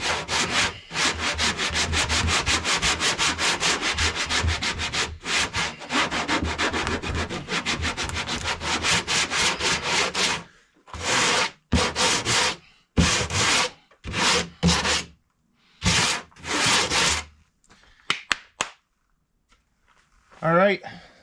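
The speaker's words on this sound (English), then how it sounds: "Going to sand it all the way off though." Bondo body filler is sanded on a car quarter panel with a steady, close, rhythmic rasp. The sanding breaks into shorter bursts, then fades, and someone talks toward the end.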